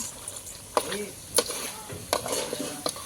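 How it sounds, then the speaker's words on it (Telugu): A spoon stirs chicken in a hot pan for chicken fry, scraping in short strokes at uneven intervals over a soft, constant sizzle. "చికెన్ ఇప్పుడు ఒక్కసారి కలుపుకోవాలి"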